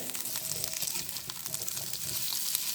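Small pieces of coconut frying in oil for a mutton chops dish, a steady crackling sizzle that holds even and close throughout, with no talking over it.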